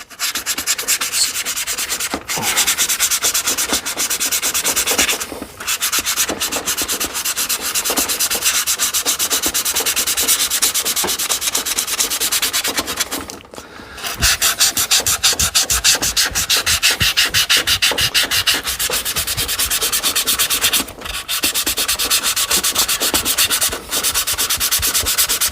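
Hand sanding a Les Paul style guitar body with 400 grit sandpaper, steady close scratchy rubbing strokes with brief pauses, continuous and alone.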